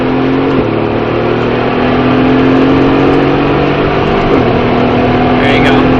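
Race car on a track accelerating under throttle: a loud, steady engine drone with sustained harmonic tones that shift in pitch as it pulls, continuous throughout with no speech over it.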